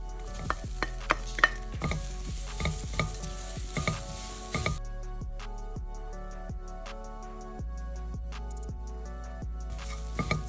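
Grated coconut cooking in a pan, a spoon scraping and stirring in quick repeated strokes over a light sizzle, with background music playing throughout.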